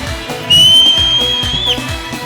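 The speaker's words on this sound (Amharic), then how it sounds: "ጉባኤው ለጌታ እንደገና ፉጨት ጩኸት" A church congregation whistling in worship, one loud sustained whistle that holds a steady tone and sweeps up at the end, over a rhythmic thumping backdrop.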